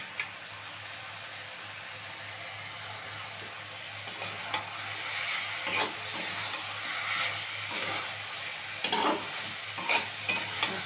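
Dried fish curry with tomato, coriander leaves and spices is stir-fried on low gas, a steady soft sizzle under repeated scraping spatula strokes and light clinks, no speech.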